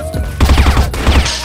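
Rapid gunshots in the video game CrossFire: two short bursts of loud, close shots fired in quick succession, with no talking.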